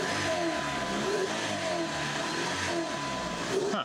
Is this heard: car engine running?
yes